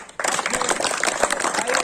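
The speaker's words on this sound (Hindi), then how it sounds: "आप लोग एक बार ताली बजाकर" A crowd applauds at a farewell and felicitation ceremony for an outgoing association president. Dense, steady clapping breaks in after a brief quiet moment and carries on evenly to the end.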